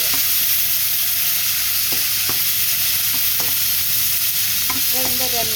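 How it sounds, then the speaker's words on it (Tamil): Chopped tomatoes sautéing in a pan, a steady broadband sizzle running throughout with occasional spoon scrapes and clinks near the end, close and fairly loud, no talking. "இப்போ வெட்டி வச்சுக்கிற தக்காளி பழத்தை போட போகிறேன். போட்டு நல்லா வதக்குவோம்."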